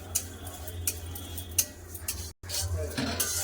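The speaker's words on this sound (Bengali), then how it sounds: "কড়াতে ঘি আছে এটা সামাই ভেজে নেবো দিয়ে সামাই দিয়ে দিলাম এবার সামাইগুলো খুব ভালো করে ভেজে নেবো" Vermicelli fried in ghee in a wok, stirred with a metal utensil that gives repeated clinks and scrapes over a low, steady background, with one brief drop to silence partway through.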